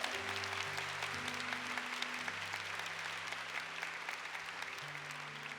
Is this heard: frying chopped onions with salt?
no